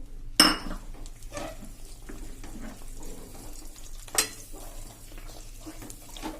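Besan mesub mixture being stirred with ghee in a pan over a medium gas flame: a loud metal scrape and clatter at the start, then soft continuous stirring and sizzling, with a second sharp clink later on.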